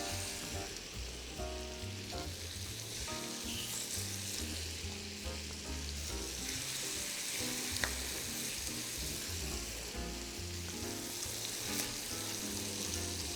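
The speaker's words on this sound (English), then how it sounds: "So the pan's nice and hot, so we're going to go ahead and put our chicken in" Chicken sizzles and fries steadily in a hot pan, a dense continuous crackle with faint clinks of stirring and no voices.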